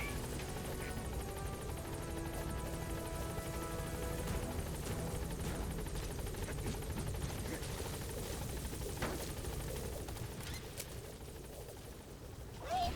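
Support helicopter in the Metal Gear Solid V video game arriving at a landing zone, a steady loud rotor drone filling the whole stretch with a brief rise at the end, as radio voices speak over it.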